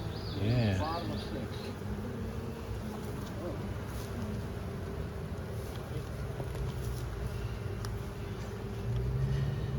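Honeybees buzz steadily around an open hive that is preparing to swarm, a dense continuous drone with some low handling noise, present throughout; people are not clearly heard talking.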